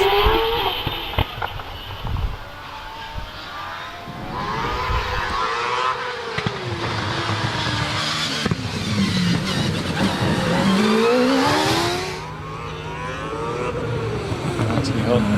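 A Gould GR55 hillclimb race car fitted with a Cosworth XD V8 engine, driven through the S's at Harewood, revs up and down hard and repeatedly, rising and falling as it passes and shifts, with a commentator talking over it.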